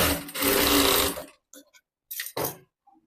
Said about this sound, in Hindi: अब एक सिलाई में पट्टी की तरफ लगाऊंगी।